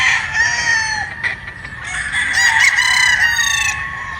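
A White Sweater Boston P-comb rooster crows loudly and close by, one drawn-out crow filling the moment with a few clucking notes mixed in.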